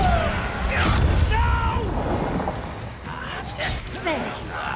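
Bombarda explosion spell in the Hogwarts Legacy video game, deep booming blasts layered under busy combat effects and whooshes, with voices talking throughout.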